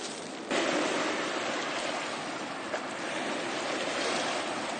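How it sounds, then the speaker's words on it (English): Rushing waves of the Niagara Whirlpool on the Niagara River make a steady broadband roar of churning water that stays loud and continuous throughout, heard from the riverbank. "Look at the waves of the Whirlpool."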